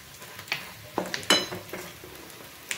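Bay leaves and masala hitting hot oil in a pan of Saoji mutton curry, giving a soft steady sizzle broken by a few sharp clinks and stirring scrapes close by.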